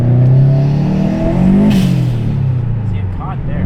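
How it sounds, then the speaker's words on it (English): Subaru WRX engine revving, a loud, close rumble that rises and falls in pitch with a throttle blip, heard alone in an outdoor setting. "Engine sounds so healthy, man. Oh yeah, I missed that rumble."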